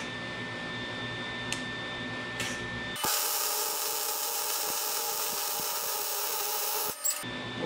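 MIG welding with a 25% shielding gas mix, a steady loud crackling buzz running about four seconds, starting abruptly and cutting off, between quieter stretches of shop background.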